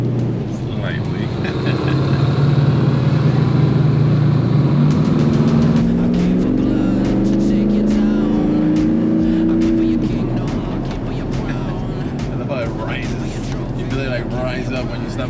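A modified 1995 Ford Bronco XLT 4x4 with a roughly 600 hp build and an aggressive cam, loud and close, the engine rising and falling through revs as people talk over it.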